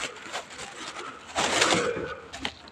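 Pigeons close by, giving a soft flurry of wing flaps and rustling movement that swells in the middle, without talk.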